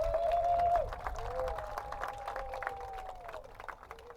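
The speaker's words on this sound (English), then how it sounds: "Give them a round of applause, ladies and gentlemen." Audience applause at a gala, a soft, steady patter of many hands that fades gradually over several seconds, with a faint tonal line running through it.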